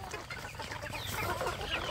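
Free-range village chickens clucking while being fed, a steady close chorus of overlapping clucks and soft calls from several birds, with no talking.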